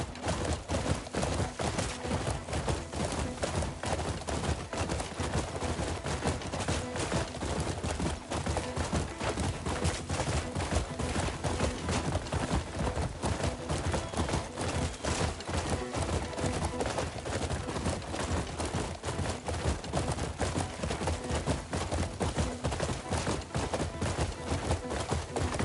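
Rapid, steady hoofbeats of a horse galloping across open ground in the Crimson Desert game, a dense and continuous drumming that holds loud and close for the whole stretch with no voices.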